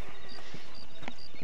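Horse hooves clip-clop in the Red Dead Redemption video game, a quick run of light, evenly spaced hoof knocks over a steady background hiss.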